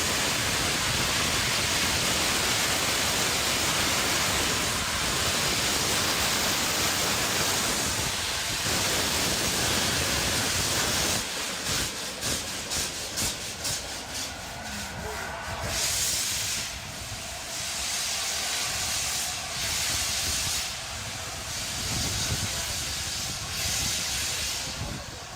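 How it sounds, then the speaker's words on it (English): A steam locomotive on a very long passenger train vents a loud, continuous hiss of steam before departing, and the blast later breaks into choppy pulses as the engine starts to move with slight wheel slip. "Steam engine releases lots of steam before departing with little wheel slip."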